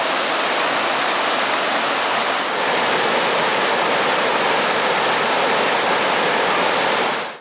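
Heavy river whitewater rushes along the Superior Hiking Trail, a loud, steady roar of churning water close by that holds constant throughout with no voices.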